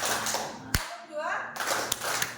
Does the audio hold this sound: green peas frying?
no